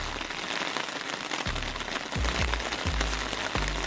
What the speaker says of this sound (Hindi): आज का मौसम तो बहुत ही खराब है, पूरी रात से बारिश हो रही है